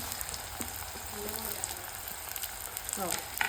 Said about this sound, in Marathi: तर यामध्ये आपण आता कांदा टाकणार आहोत।